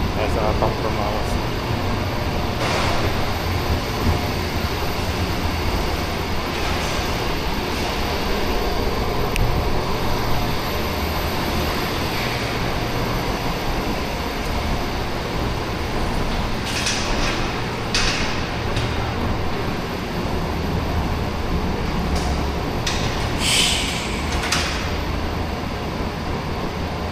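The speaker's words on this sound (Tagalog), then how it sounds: "Ingay yung indoor niya, mga boss. Yung motor niya, ingay." The motor of a noisy indoor air conditioner unit in a pump room hums and drones steadily and loudly throughout, a constant broadband roar with no breaks.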